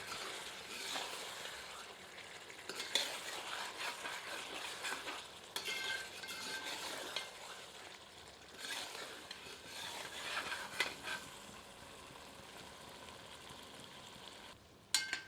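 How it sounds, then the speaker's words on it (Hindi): Chicken curry is stirred and roasted in a copper lagan, with a soft steady sizzle and repeated scraping strokes of a spoon against the metal pan, fairly faint and with no talking. "मिलाकर तब तक भूनते रहते हैं जब तक कि इसका अतिरिक्त रस सूख नहीं जाता।"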